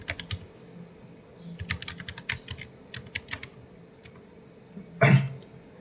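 Rapid, uneven typing of a password on a computer keyboard, close and fairly quiet, with a short burst of coughing or throat clearing near the end.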